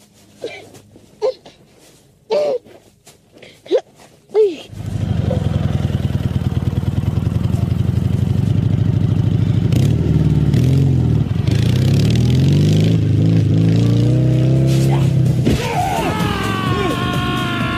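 A motorcycle engine starts and runs steadily, loud and close, with revving and rising pitch toward the end; a few voices speak over it and before it starts.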